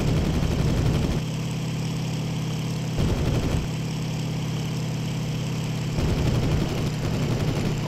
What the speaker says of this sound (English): I know my engine is overheating.